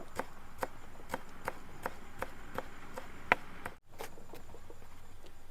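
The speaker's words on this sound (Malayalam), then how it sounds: "നല്ല ജോറായിട്ട് അരിഞ്ഞങ്ങോട്ട് വെക്കുക" Fresh coriander leaves chopped with a knife on a board, a steady run of crisp, close taps about three per second, quiet and alone, with a brief pause near the end before chopping resumes.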